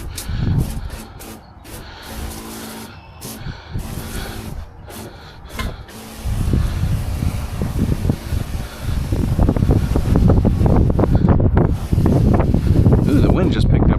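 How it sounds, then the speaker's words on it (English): Outdoor wind gusting hard into the microphone while grass is being cleared, a loud, broad rushing roar that builds midway through and stays strong to the end, with a voice speaking over it. "the wind just picked up right there."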